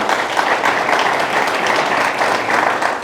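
An event audience gives the organizers a round of applause: dense, even clapping from many hands, loud and sustained without a break.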